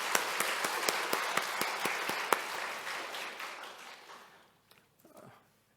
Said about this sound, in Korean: 우리 다 같이 박수로 다시 한번 감사를 표할까요?